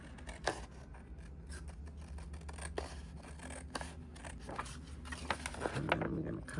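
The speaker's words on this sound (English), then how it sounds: "I'm gonna trim that." Scissors snip and trim paper for junk journal ephemera, a steady run of close, crisp cuts with a voice talking intermittently over the work.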